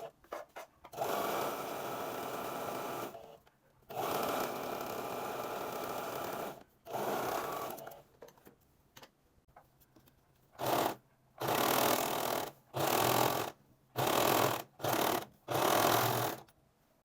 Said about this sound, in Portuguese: No meu caso, eu vou passar na overlock